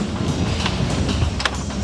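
A Chinese passenger train rolls along with a loud, continuous rumble and intermittent clickety-clack wheel beats heard from inside the carriage.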